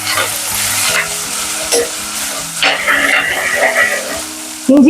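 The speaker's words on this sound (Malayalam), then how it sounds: "ഇഞ്ചി വെളുത്തുള്ളി ചതച്ചത് ചേർത്ത് കൊടുക്കുക." Crushed ginger and garlic sizzle loudly in a hot pan with steady frying crackle, broken by a few stirring scrapes and clatters near the microphone, and a sharp clank at the end.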